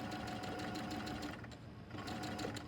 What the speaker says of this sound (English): And I'm gonna keep sewing.